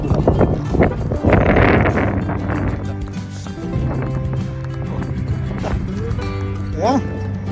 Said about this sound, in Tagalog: talagang ang lakas ng hangin